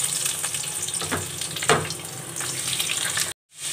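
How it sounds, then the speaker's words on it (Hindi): Onions sizzle and fry in hot oil in a pan for a pulao, a steady bright crackle with a short stir midway before cutting out near the end. "तो अनियन को सौते करते हैं।"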